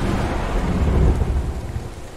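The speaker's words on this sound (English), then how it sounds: "It's starting to rain harder." Steady rain pours with a deep rolling rumble of thunder in the Mario the Music Box game, a dense, close wash of sound with no voices.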